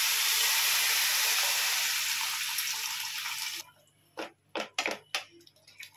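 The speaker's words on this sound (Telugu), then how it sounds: "ఇప్పుడు మనం వాటర్ యాడ్ చేసుకుందాం" Water is poured into a pan of frying pav bhaji masala, giving a loud steady hiss and sizzle that gradually fades, then several short splashy bursts toward the end.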